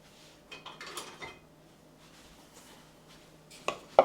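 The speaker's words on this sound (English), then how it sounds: "I'm going to grab my spatula. I don't need this to go to waste." A spatula scrapes vegan brownie batter from a mixing bowl in short bursts of soft scraping, then sharper, louder scrapes and clinks toward the end, close and alone.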